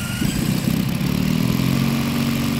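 A petrol ASP 160 engine in a quarter-scale Hangar 9 Piper Cub J3 model plane runs steadily on test, giving a loud, continuous buzzing drone with a dense low-pitched throb that holds at a constant rate throughout.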